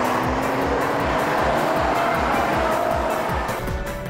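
Nissan GT-R and BMW M3 race cars accelerating hard down a back straight, engines roaring loudly and continuously with rising, overlapping revs throughout, no voices.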